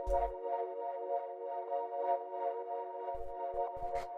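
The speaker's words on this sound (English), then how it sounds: "So what this one is this is more of like a drone." A sustained deep minimal house synth chord drones on evenly, with low thumps at the start and again near the end.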